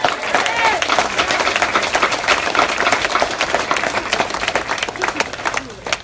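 A crowd of marchers at an outdoor protest for people killed by police claps and cheers loudly and continuously, the applause close and dense, fading slightly at the end, with voices mixed in.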